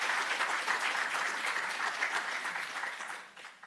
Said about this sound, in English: give Professor Thorpe a round of applause for accomplishing that task so well